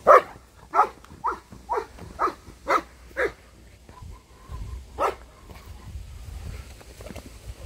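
A dog barks in a quick run of short, fairly close yelps, then gives one more bark after a pause, with soft whimpering and wind noise outdoors; a voice is heard briefly.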